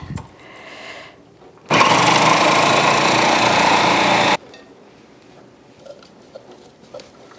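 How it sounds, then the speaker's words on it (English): A food processor fitted with a slicing disc runs for about three seconds as celery is fed through, giving a loud, steady whirring buzz between quieter kitchen handling sounds. "we'll feed those into the food processor"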